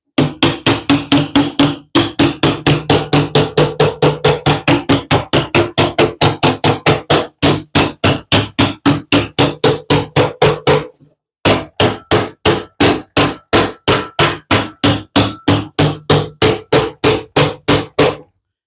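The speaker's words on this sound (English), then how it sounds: "I'm going to take this block of wood and this hammer" Rapid, sharp hammer blows strike a round sheet metal duct against a wood block in steady bursts, loud and close, with a brief pause before the pounding resumes.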